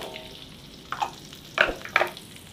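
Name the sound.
frying shallots and garlic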